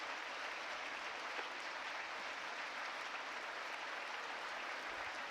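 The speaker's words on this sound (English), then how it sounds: "As we see the Cenotaph Guard leave under loud applause from the crowd." Crowd applauds as the Cenotaph Guard leaves the floor at a Remembrance Day service in Saskatoon, a steady, distant wash of clapping that holds evenly throughout.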